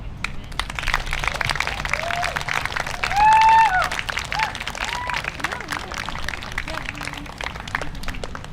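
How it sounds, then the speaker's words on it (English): Crowd applause at a higher-education rally, a steady wash of clapping with brief whistles and cheers rising through it. "now I'm going to ask you for one more round of applause"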